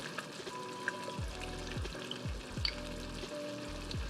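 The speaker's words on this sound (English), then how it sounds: "Add a little bit of apple cider vinegar, some Worcestershire sauce." Collard greens sizzling in a pot as apple cider vinegar and Worcestershire sauce are added, a soft continuous fry crackle heard close with a low repeating hum underneath and no voices.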